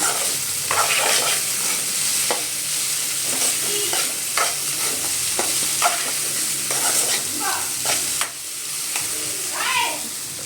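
Boiled carrots stir-fry in sizzling oil in a pan while a utensil scrapes and stirs repeatedly, close and fairly loud, with no talking.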